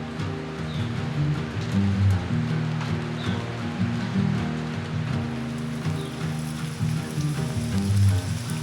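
Steady, dense rain falling in a forest in Magoebaskloof, a continuous hiss and patter with a low rumbling undertone, close and unbroken with no talking.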